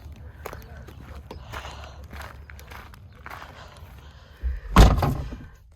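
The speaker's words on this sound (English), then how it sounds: "Shut the door." Van door slammed shut, a loud heavy thud near the end after quiet shuffling and footsteps inside the vehicle.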